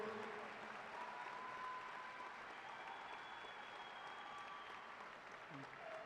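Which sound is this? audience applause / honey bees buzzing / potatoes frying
audience applause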